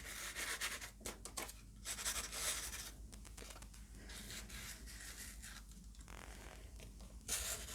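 An edge of paper is rubbed into embossing powder spread on a scrap sheet, giving dry, scratchy strokes that come in short bursts with brief pauses between them.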